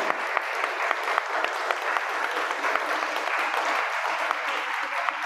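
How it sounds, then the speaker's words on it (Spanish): An auditorium audience at a lecture session applauds the speaker with a steady, full round of clapping, loud and close, with a few sharper individual claps standing out and faint voices beneath. "Te vamos a dar el aplauso aquí del auditorio"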